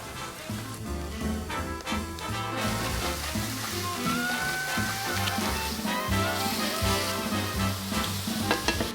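Fish frying in a hot pan gives a steady sizzle throughout, partly buried under continuous background music.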